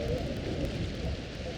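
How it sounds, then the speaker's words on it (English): Steady rain pours in a Minecraft Tekkit world, a dense even hiss with no gaps, loud and close and continuous throughout. "It's not doing anything because it's raining."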